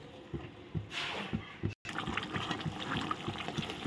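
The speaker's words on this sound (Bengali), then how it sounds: "এখন ঝোলটা ভালো করে ফুটবে।" Potato and pointed gourd curry bubbling in a pot, a steady wet gurgling and liquid churning with small pops, moderately close, with a brief dropout midway.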